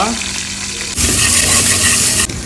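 Onions hit hot sunflower oil with a sudden loud sizzle that jumps up and then crackles steadily, with spoon stirring mixed in.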